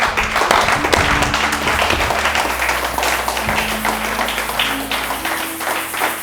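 Congregation applauding for Jesus during a church service, a dense continuous wash of clapping from many hands with a steady sustained tone underneath, loud and close throughout.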